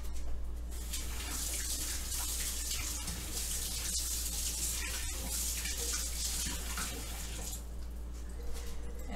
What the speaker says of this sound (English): I'm going to give this a rinse.